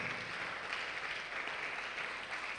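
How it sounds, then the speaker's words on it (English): A workshop audience applauds a speaker, a faint, steady wash of clapping from a distance with no voices over it. "Can we make the applause louder than that?"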